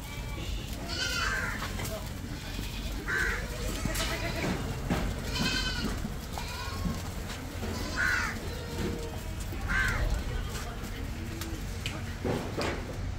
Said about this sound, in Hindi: ये सिरोही बकरी देखें आप, ये गंजाम है ना भाई ये बकरी।